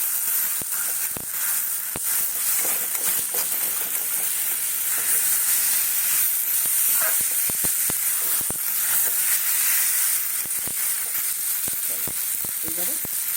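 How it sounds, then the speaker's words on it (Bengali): Potato fries with spices in a pan for hing and pea kachori, a loud, steady sizzle and hiss running without a break, with occasional stirring clicks up close. "মশলার সঙ্গে আলুটা ভাজা হয়ে যাবে।"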